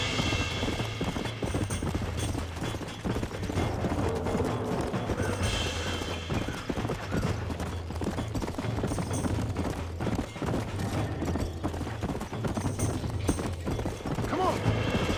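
Horse galloping in the video game Red Dead Redemption, rapid rhythmic hoofbeats with occasional snorts, running continuously under game music and voices talking.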